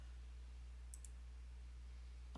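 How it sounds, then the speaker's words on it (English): A pair of quick, crisp computer mouse clicks sounds near the middle of a quiet office room, with a faint steady electrical hum underneath and a last tiny click at the end. "we're going to execute it by clicking the execute button."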